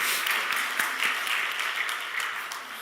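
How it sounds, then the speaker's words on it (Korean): A church congregation bursts into steady, dense applause after a prayer, many hands clapping together at once and filling the room, with no talk over it. "우리 하나님께 영광의 박수를 주시옵소서"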